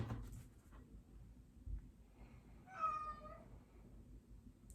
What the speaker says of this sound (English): My kitty is making a few sounds in the background.